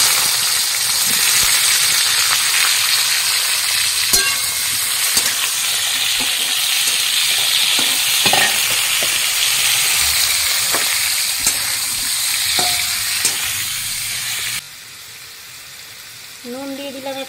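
Carrot, potato and papaya fry in a wok while being stirred, giving a loud, steady sizzle with occasional utensil scrapes and clicks that cuts off abruptly near the end, leaving a quieter background.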